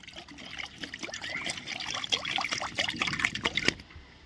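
Water is poured from a pot into an iron wok of eggs over an outdoor wood fire in a forest, making a steady close trickling splash that runs for several seconds and peaks near the end.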